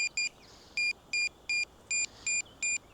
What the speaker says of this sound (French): Il va faire bip bip bip.